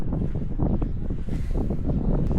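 Steady low wind rumble buffets the microphone throughout in the hills of Tanay, Rizal, a continuous blustery roar with no voices.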